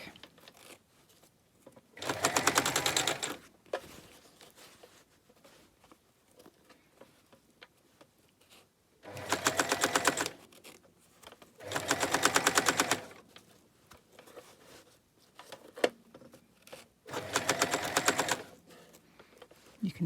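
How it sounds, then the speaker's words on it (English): A sewing machine stitches down one side of a zip in four loud, rapid whirring bursts, each lasting a second or two, separated by quiet pauses with faint handling noise. "sew down the other side of your zip"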